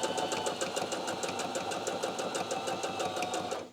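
A Viking Onyx 15 sewing machine stitching backwards on a buttonhole, a steady rapid mechanical chatter of needle strokes running evenly, close and fairly quiet, then stopping abruptly at the end.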